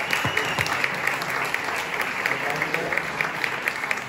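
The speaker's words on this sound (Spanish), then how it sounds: "Un aplauso para Roberto Alhambra" Applause from a festival gala audience at DAU Barcelona 2023, greeting an author: steady, fairly close clapping with a few voices mixed in, continuous for the whole stretch.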